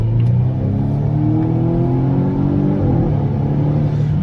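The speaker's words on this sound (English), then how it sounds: "it's got a pretty good exhaust sound on it" A Volvo V60 Cross Country wagon with a Polestar factory tune idles and revs close by, its exhaust a loud, steady, deep rumble throughout with no talk.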